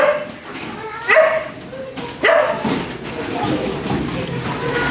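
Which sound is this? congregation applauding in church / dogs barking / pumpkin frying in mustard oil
dogs barking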